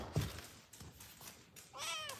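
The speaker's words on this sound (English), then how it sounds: "Oh, you wanna say hi to the cats?" A house cat meows once, a clear rising-and-falling cry close by near the end, after some soft bumps and rustling in a quiet indoor room.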